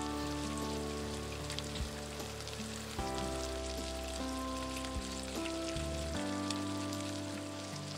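Spinach puris deep-fry in hot oil, a soft continuous bubbling sizzle held at a low, even level throughout, with no talking.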